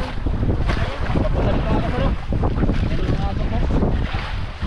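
Strong wind buffets the microphone at a riverside fishing spot with a fast current, a loud, continuous rumbling roar with gusty surges and rushing water mixed in, while voices talk faintly underneath.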